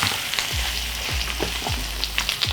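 Savoury Asian pancake with prawns frying in a non-stick pan, a steady close sizzle punctuated by soft scraping clicks from the utensil.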